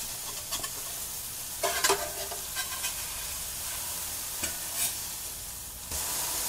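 Ribeye burger patties searing in butter in a pan, a soft continuous sizzle with several brief scraping and spatula bursts spread across it, fairly quiet and with no voices.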